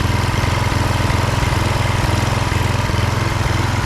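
A Husqvarna HU 625HWT gas trimmer runs at a close, loud, steady idle with a fast, even throb and no talk over it.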